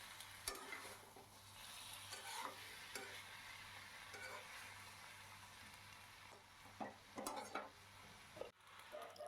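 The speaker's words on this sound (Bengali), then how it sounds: "এবার হালকা হাতে সুন্দর করে এটাকে নাড়িয়ে চাড়িয়ে রান্না করতে হবে" Eggplant and tomatoes stirred and fried together in a pan for a vegetarian Bengali dish. A steady sizzle runs throughout, broken by scraping stirs and a few louder clatters of the spoon against the pan.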